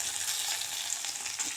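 Diced potatoes frying in a pan, giving a steady close hiss of sizzling oil with a few soft stirring scrapes, heard alone without talk.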